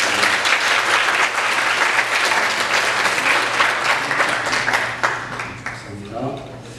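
A church congregation applauds to welcome a returning visitor during Sunday worship, warm, sustained clapping at close range that tapers off near the end as a voice begins talking.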